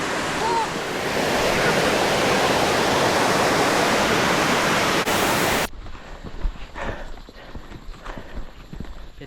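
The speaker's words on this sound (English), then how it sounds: "We're literally walking down a waterfall." Steady, loud rushing water from a waterfall on a hiking trail fills the first half, then cuts to quieter outdoor ambience with scattered footsteps and small knocks.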